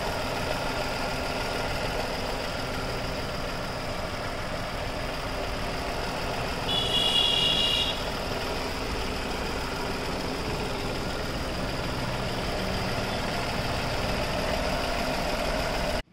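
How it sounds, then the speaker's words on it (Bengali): A Renault Kwid RXT 1.0 petrol hatchback with about 53,000 km on it idles steadily, a smooth, even mid-pitched hum that holds for several seconds with no voices. "গাড়িটা স্টার্ট করি ইঞ্জিন সাউন্ডটা শুনে দেছি"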